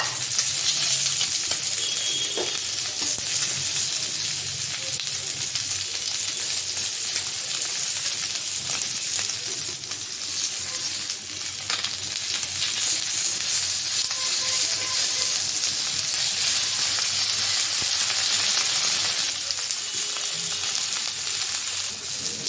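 Chapa fish sizzles and crackles in hot oil, a continuous loud spitting hiss with occasional pops and stirring clinks, no one talking.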